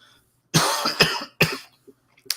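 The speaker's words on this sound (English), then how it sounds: "Clearing my throat." A single person clears their throat close to the mic in two rough bursts, with a brief quiet gap between them and nothing else around.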